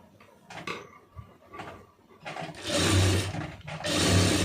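Sewing machine stitching a cotton lined blouse, with a few short whirring bursts of stitching at first, then two longer, louder runs near the end separated by a brief pause.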